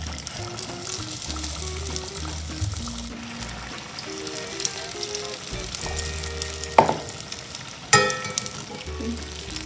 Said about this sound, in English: Just coat it in the batter and then you put in the oil.